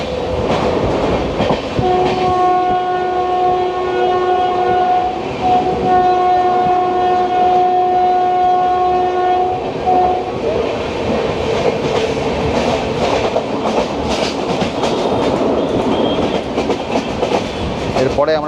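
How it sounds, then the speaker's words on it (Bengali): The Darjeeling Mail passenger train rolls loudly near Dakshineswar station with a steady rumble and clatter of wagons, while its horn sounds as a long sustained blast over the first half, close and continuous throughout. "ট্রেন তার নিজের গতিতে আস্তে আস্তে ফিরছে"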